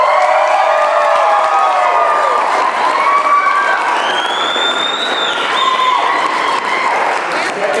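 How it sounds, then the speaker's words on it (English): Wedding guests applaud and cheer for the bride at a father's toast, a dense wash of clapping with whoops and shouts across the whole stretch, loud and close, with voices calling out through it. "please, a big round of applause for the most beautiful bride in this room."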